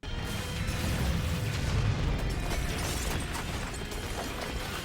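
Rockets strike a mecha in a Robotech: New Generation anime battle, producing a dense, sustained roar of explosions and rumbling blasts with crackling bursts on top.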